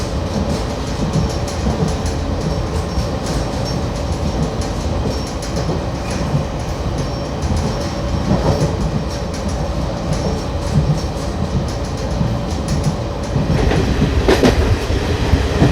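A Vistadome passenger train rolls past a railway station in Jharkhand, heard from on board: loud, steady wheel rumble and rhythmic clickety-clack over the rails, with a brief metallic squeal and the noise building toward the end.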